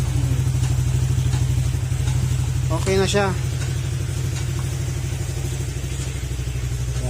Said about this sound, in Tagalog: Narinig naman natin na umandar na yung motor.